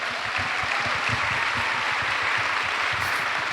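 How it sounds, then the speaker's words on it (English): Continuous crowd applause rises in a convention plenary hall, a dense, even rush of clapping from many people that carries steadily for a few seconds. "One more round of applause for that."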